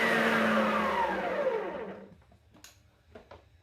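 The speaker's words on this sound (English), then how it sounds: "we're going to add it slowly into the batter while it's mixing slowly" An electric mixer whirs through chocolate cake batter, loud and steady at first, then its pitch drops as it winds down and stops, leaving faint clinks and handling noises.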